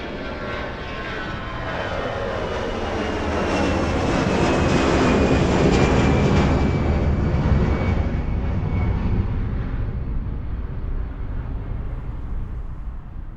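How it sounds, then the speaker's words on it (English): An airplane roars closer, swelling to a loud peak overhead, then fades away as it flies off into the distance. "the exact position of an airplane as it passes by, from taking off to flying directly overhead"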